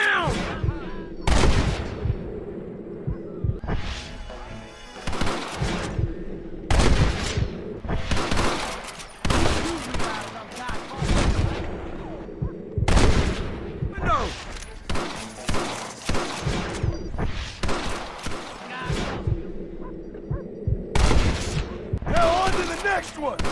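A shootout in the video game Red Dead Redemption, with repeated clusters of close, booming gunshots and volleys firing at irregular intervals throughout.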